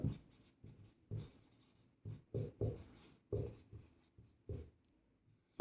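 Pen strokes scratching on a writing surface while working a maths problem, coming in short separate bursts with brief pauses between, close and fairly quiet, no talking.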